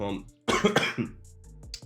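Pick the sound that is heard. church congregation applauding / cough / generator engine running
cough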